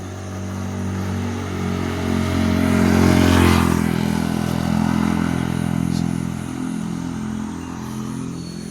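Motorcycle and scooter engines pass on a Sikkim mountain road, swelling to a near, loud peak around the middle and fading again, with steady low engine drone throughout.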